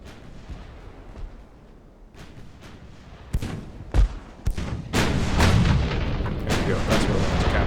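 Warship bow guns fire in a naval battle in Ultimate Admiral Dreadnoughts: a series of heavy booming shots, the first sparse and separated, then a louder sustained barrage of rolling blasts toward the end.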